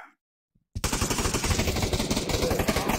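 A rapid automatic burst in the VR shooter Pavlov: after a short silence, a gun fires continuously as the whole magazine is emptied, loud and close, in a dense even rhythm lasting over two seconds.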